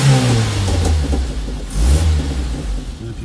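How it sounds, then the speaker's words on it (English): A loud motorcycle engine revs up and falls back, with uneven crackling pops on overrun as the revs drop, all close and continuous. "Got a little bit of popping on overrun."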